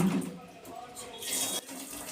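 Dirty aquarium water poured out on a balcony, a short close rush and splash of flowing water with a hissy surge near the end, a voice faintly in the background.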